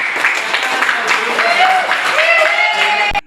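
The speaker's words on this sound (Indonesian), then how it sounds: "Tepuk tangan buat kelompok 4." A classroom of students claps for a presenting group at a teacher-training session, a steady dense patter of hands that fills the room and then stops abruptly, with some voices mixed in.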